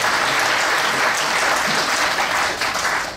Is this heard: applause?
yes